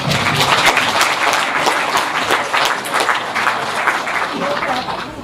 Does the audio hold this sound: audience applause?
yes